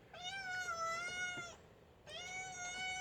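A wet cat meows insistently indoors, begging to be let back out into the rain: two long, loud, tonal meows separated by a short pause, close to the listener with no talking.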